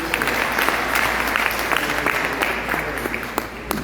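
A church congregation claps together during an evening worship service, a dense, steady round of applause that fills the room from start to finish.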